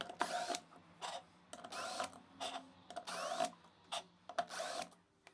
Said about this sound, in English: First, we're going to start with unscrewing the 4 bolts here.